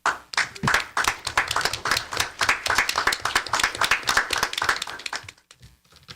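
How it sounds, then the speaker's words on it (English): Small audience at a township council meeting claps in a loose, fairly sparse patter where individual hand claps stand out, tapering off and stopping toward the end. "they deserve a big round of applause from all of us."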